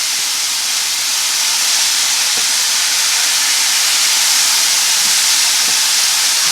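Ginger pork with peas and corn sizzling in a frying pan while being stirred, a steady loud hiss of frying that runs evenly throughout, close up and without talk.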